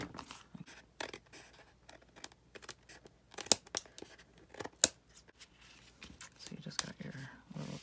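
Scissors trim paper for a pocket on an upcycled tissue box in a string of crisp snips and rustles, heard alongside a person talking.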